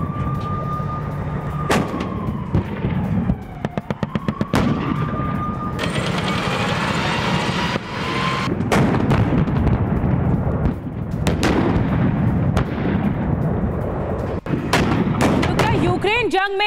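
An Abrams tank fires during war footage from the Russia-Ukraine front, with several sharp, heavy blasts and rumbling impacts scattered through the clip under steady talking.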